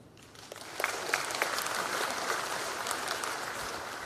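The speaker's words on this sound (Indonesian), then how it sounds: "Ini yang harus kita tepuk tangan." Applause from a large audience at a talk about concert permits and a show at GBK, a steady broadband patter of many hands lasting throughout, fairly distant and moderately loud.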